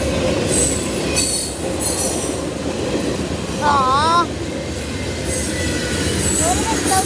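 At a level crossing, a passing train grinds along loudly and continuously, its wheels letting out wavering high-pitched squeals in a few bursts over the steady rolling rumble.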